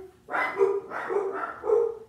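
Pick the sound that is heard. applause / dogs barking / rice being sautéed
dogs barking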